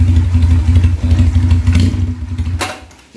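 A Benelli Patagonian Eagle 250 cc motorcycle idles loudly and unevenly during carburetor adjustment, its close engine chugging and sputtering before it dies out near the end.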